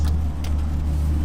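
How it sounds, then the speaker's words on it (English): Ferrari 488 Challenge Evo race car idling with a loud, steady low engine rumble close by, a continuous drone without a clear rev or pull-away. "We'll give you a quick look at starting up and moving the car."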